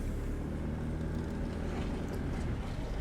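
A 1995 Mitsubishi Delica Space Gear van with a mechanically injected 4M40 turbo diesel is driven in two-wheel-drive high on a road test, its engine a steady, heavy low drone with road noise and no pauses.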